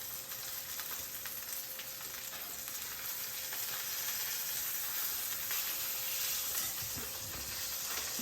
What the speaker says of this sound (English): we're gonna flip our salmon over slowly and carefully